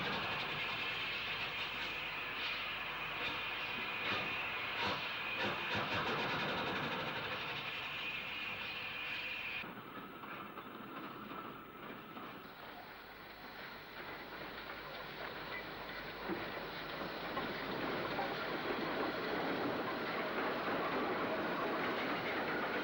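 Steam locomotive 34041 Wilton, an unrebuilt Light Pacific, hauling a down Salisbury train at Basingstoke in 1966, a loud close roar of wheels and rails that drops partway through, then builds again as the carriages rumble past.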